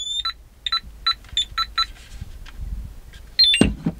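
Bosch Spexor van alarm notification on a phone, a series of short, evenly spaced electronic beeps in a quiet room, followed by a brief clatter.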